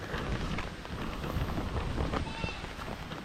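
Heavy rain pours down in a dense, continuous hiss, pattering hard on nearby surfaces.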